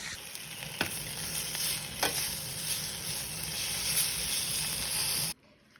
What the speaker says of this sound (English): gonna fry up the prosciutto and make it crispy